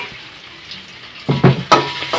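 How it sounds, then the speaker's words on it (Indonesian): Sausages sizzle and fry in a pan while being made for seblak, a soft hiss rising into a few louder bursts of sputtering and stirring near the end, with no talking. "Ini mau goreng sosis dulu."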